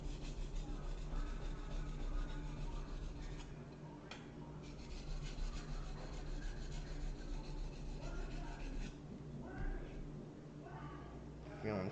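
Chef knife sharpened on a whetstone, a continuous gritty rasp of steel stroking across the stone in long passes with brief pauses, close and steady.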